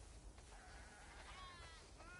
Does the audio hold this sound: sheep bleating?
yes